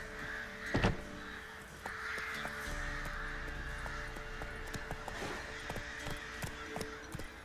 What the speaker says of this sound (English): Crows are so loud.